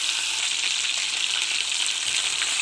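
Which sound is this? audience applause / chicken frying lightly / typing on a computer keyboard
chicken frying lightly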